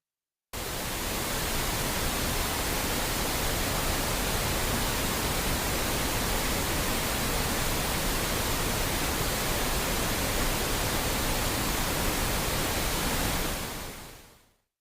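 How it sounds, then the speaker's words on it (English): Steady, loud hiss of broadband noise begins abruptly after a brief silence and continues unchanged for several seconds before fading out quickly at the end. "we're gonna generate some white noise"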